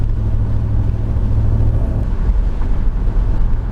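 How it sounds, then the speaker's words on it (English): Steady low engine and exhaust drone of a Ford Ranger pickup with a swapped Coyote engine while driving, continuous and close with road rumble underneath. "It's actually pretty quiet with the exhaust, except for when you really get on it."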